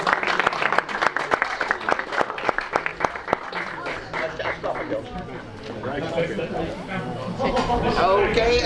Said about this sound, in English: Please applause for Group E.